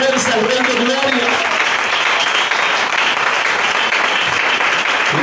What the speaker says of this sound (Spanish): Alguien que le dé ese aplauso con fuerza al Rey de Gloria.